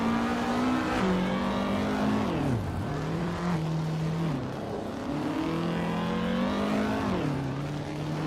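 Racing cars in a video game race with steady engine drone, pitch rising and dipping through shifts as the pack passes, loud and continuous without any voices.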